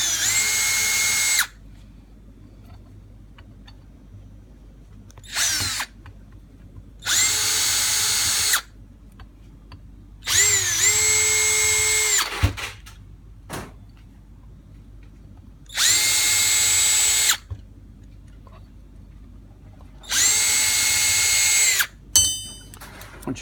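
A power drill removes the top screws from a Holley carburetor, five loud, close whirring bursts of a few seconds each separated by quiet pauses, some ending in a brief whine as the screw frees, with no voices.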